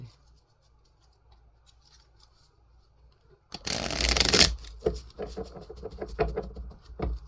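Tarot cards shuffled in a brisk, loud riffle after a few seconds of near quiet, followed by softer shuffling, tapping and handling of the deck up close.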